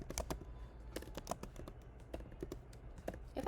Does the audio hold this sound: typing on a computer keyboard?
yes